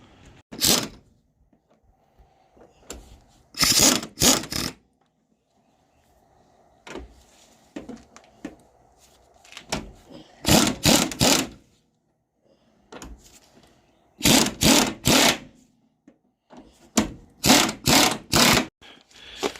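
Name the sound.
tightening Mustang strut and caster camber plate bolts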